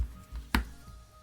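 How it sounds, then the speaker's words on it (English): A knife cuts tomatoes into small pieces for a Sudanese tomato salad, giving one crisp, close chop in the middle of a short, quiet stretch. "It's literally just cutting tomatoes into small"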